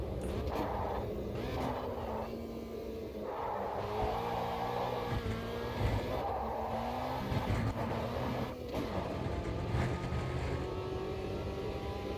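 A small front-wheel-drive car in the Automobilista 2 racing game drones steadily, its engine note rising and falling through gear changes as it runs continuously with no talk over it.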